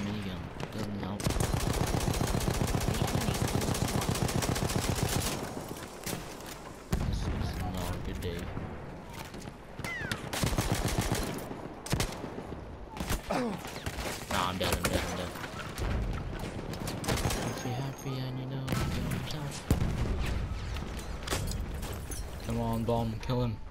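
Heavy machine gun fire in the Battlefield 1 team deathmatch game, long loud sustained automatic bursts with brief gaps and booms, while players talk over it throughout.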